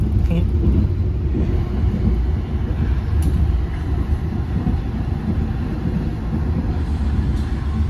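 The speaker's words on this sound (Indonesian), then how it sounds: "Ini di kereta api Taksaka." A Taksaka passenger train on the Jogja–Jakarta route fills the carriage interior with a steady, loud low rumble and rail roar that runs unbroken throughout, with no voices.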